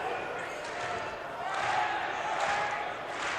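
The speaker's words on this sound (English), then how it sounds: "You hear the coordinated clap." Basketball fans at a boys' high school division championship game clap in a coordinated rhythm during a free throw, a dense crowd roar of clapping and noise that swells midway, with an announcer talking over it.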